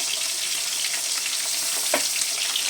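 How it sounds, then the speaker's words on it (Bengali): Pointed gourd and fish frying in hot oil, a steady dense sizzle throughout with a brief louder crackle near the end, close and alone. "পটল ভাজাটাও হয়ে এসেছে মাছ কটা ভাজাও হয়ে এসেছে"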